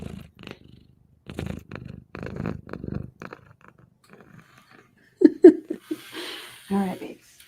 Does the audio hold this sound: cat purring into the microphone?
yes